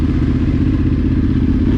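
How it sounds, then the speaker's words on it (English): A dirt bike engine revs hard and steady as it climbs out of a rut on a slippery, leaf-strewn forest trail, with a loud, continuous drone that holds close and constant throughout. "I can feel that bike spinning up to get out of the rut"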